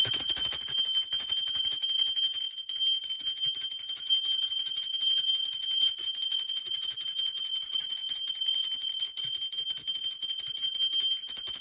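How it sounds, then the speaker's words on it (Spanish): A bell rings with a bright, sustained metallic tone that hangs steady and loud for the whole stretch, with no voices over it. "Ahora sí, va campana."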